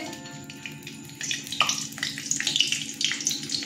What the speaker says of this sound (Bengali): তেল গরম হয়ে গেছে, তেজপাতা, শুকনো লঙ্কা ফোড়ন দিয়ে দিচ্ছি